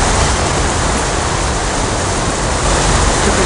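Flowing Eden water in the game Heavy Metal FAKK 2, a steady, dense rushing wash like a waterfall that stays loud and unchanging throughout, with no voices over it.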